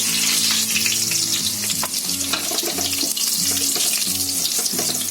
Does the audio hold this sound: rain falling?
no